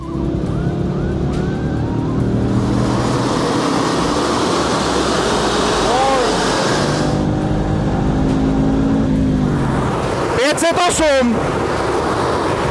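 An ABT-tuned Audi producing 508 hp and 665 Nm roars on a dynamometer during a power test, the engine note climbing steadily through the revs, loud and close, then cutting off into fluttering, popping bursts.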